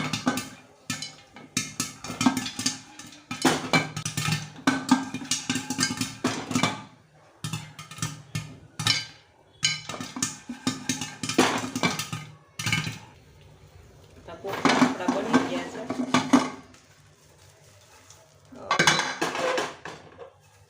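Popcorn stirred inside a pressure cooker on a home stove, with metal spoon scraping and clattering against the pot in repeated bursts separated by short pauses, close and fairly loud, while people talk nearby.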